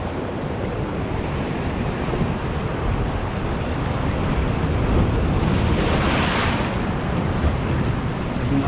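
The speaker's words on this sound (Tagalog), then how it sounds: "Oh, grabe yung alon" Ocean surf at Bolinao rolls in steadily with broadband wash and wind buffeting the microphone, a larger wave swelling toward the middle; no voices.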